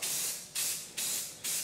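Four short bursts from a spray can of self-etching primer aimed at motorcycle front forks, each a sharp close hiss that quickly fades, with brief gaps between bursts.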